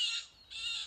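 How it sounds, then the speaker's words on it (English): A blue jay calls out in a cartoon forest scene, giving two short, bright, harsh squawks separated by a brief gap, fairly faint and with no voices over it. "It's a blue jay."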